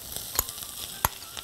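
Mushroom slices drop into a pan with garlic and sizzle softly, with two sharp clacks of utensil on pan, close and brief.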